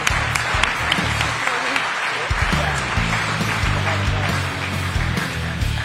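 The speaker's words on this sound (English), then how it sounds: "Please give a round of applause for our St. Jude ambassadors." Audience applause at a Monster Jam World Finals 2025 press conference, a steady, dense clapping that carries through the whole stretch, with music and voices running underneath.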